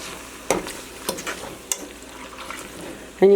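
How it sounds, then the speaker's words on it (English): A fork stirs sizzling food in a pot, producing several sharp metallic clinks spaced about half a second apart over a faint, steady background sizzle, close up and without speech. "Now, I'm going to use this fork to stir it around."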